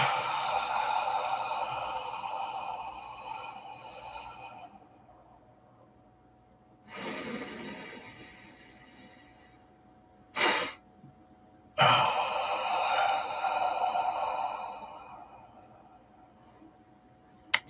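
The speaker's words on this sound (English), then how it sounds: "Double inhale, get as much air in our lungs as possible, and then exhale, letting it fall out of our mouth" Breathing exercise with double inhales and full exhales through the mouth: a long breathy exhale, then sharp quick inhales and another long rushing breath, close and fairly loud, with no talking.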